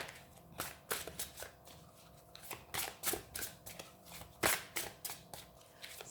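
Tarot cards being shuffled by hand in a quiet room, a run of crisp riffling bursts and soft slaps at an uneven rhythm, close and fairly faint, with no voices.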